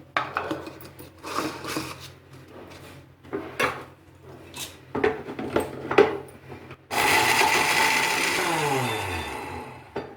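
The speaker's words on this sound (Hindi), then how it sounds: "बाकी जो हमारा बचा उसे हमने डब्बे के अंदर डाल दिया, इसे हम पीसने लगे" A spice grinder coarsely grinds homemade biryani masala spices, starting as short rattling bursts of whole spices and then settling into a steady, loud continuous whir near the end.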